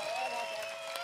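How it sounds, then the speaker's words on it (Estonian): A crowd at a Counter-Strike esports match applauds for both teams, a dense, steady wash of clapping heard at moderate distance for about a second. "Aga jah, suur aplaus mõlemale tiimile."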